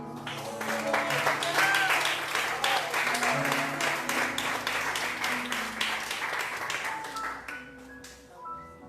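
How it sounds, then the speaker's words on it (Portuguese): A church congregation applauds during an evening worship service, giving a sustained wash of clapping at moderate volume with voices and a few sustained musical tones underneath, tapering near the end. "Aplauda o Senhor"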